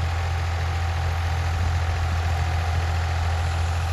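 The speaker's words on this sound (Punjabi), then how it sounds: "ਟਰੈਕਟਰ ਹੈਗਾ ਫਾਰਮ 65" A Farm 65 tractor hitched to a super seeder for wheat sowing idles steadily, giving a continuous low, heavy engine rumble that stays even and close throughout.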